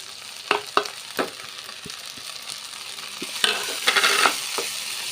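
Grated coconut and curry leaves being stirred into an ivy gourd stir-fry in a pan, a spatula scraping and tapping the metal several times over a constant soft sizzle, close and steady with no voices.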